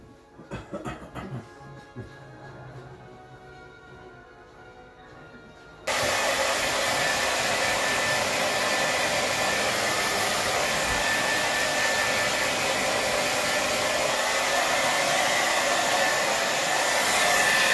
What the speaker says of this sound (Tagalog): Blower lang natin ating buhok para hindi siya masyado basa